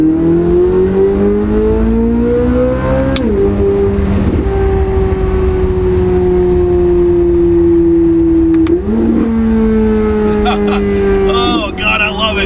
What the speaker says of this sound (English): Z06 revs on Z06 day